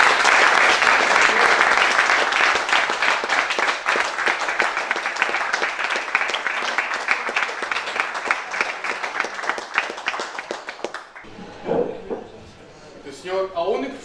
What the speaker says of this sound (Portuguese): vai uma salva de palmas